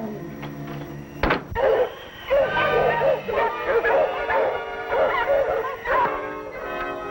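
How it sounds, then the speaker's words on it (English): Dogs bark repeatedly in short bursts, fairly close, after a sharp knock or bang; a voice speaks briefly alongside. "You hear those dogs?"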